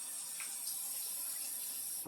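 Tap water runs steadily into a stock pot in a home kitchen while turkey broth is being prepared, a continuous even hiss of flowing water from start to finish with no talk.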